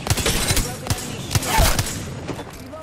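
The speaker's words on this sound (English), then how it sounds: "Enemies are shooting at me." Enemy gunfire in Apex Legends, a cluster of sharp shots and short bursts at irregular intervals, loud and near, with some voice sounds mixed in.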